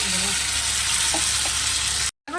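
A spice paste with tomato, ginger, whole garam masala and turmeric frying in a pan gives a loud, steady sizzle that cuts off abruptly just before the end.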